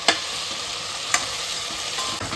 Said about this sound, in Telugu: ఇవన్నీ మనకు కావాల్సినట్టు వేగినాయి.